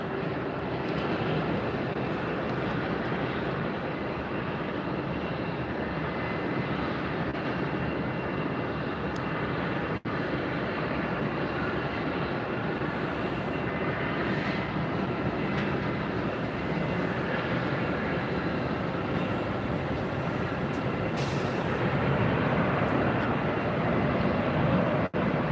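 A Delta Airbus airliner arriving at Tampa produces a sustained, fairly close jet roar and rumble that holds steady throughout and swells slightly toward the end.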